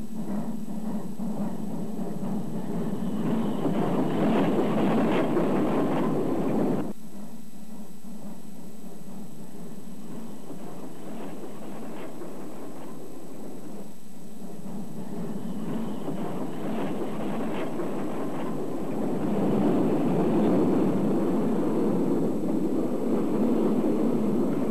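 A black steam locomotive with a red buffer beam hauls a train on the Raurimu Spiral, a loud, steady rumble of running and chuffing that fades briefly in the middle, then swells again near the end.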